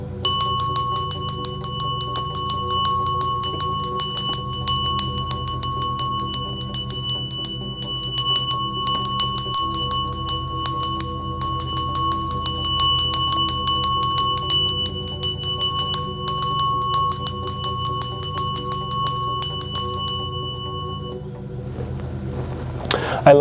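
An altar bell rings steadily for over twenty seconds while items are cleansed with sound in a spell ritual, its bright, sustained metallic tones overlapping and ringing out closely before fading near the end.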